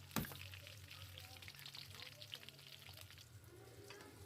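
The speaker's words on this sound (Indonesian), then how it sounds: "Nah, ini kita goreng atau kita tumis sampai layu ya teman-teman." Vegetables, including tomatoes, fry and soften in a pan for quail egg balado, giving a steady close sizzle that begins with a brief clatter and continues with faint crackles and no talking.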